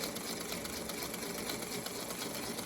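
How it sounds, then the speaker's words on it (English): Sewing machine stitching fabric shapes for a chicken salad quilt block, a steady continuous whir running evenly throughout at moderate level with no talk. "I'm just going to go ahead and sew all of my shapes."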